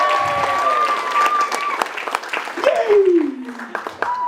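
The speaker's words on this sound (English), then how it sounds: "massive round of applause." An audience at a magic stage show claps loudly and steadily throughout, with a cheer and some voices rising over the applause.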